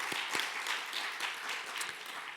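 A church congregation claps together in steady, moderately distant applause for the worship team and staff, with a few sharper individual claps standing out.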